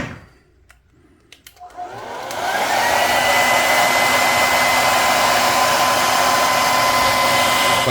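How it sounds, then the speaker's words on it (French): A hair dryer switches on after a brief quiet moment and blows steadily and loudly to heat the cracked screen of an iPhone 14 during a screen replacement, keeping up a constant rushing whir close by. "Je vais quand même le chauffer un petit peu au sèche-cheveux."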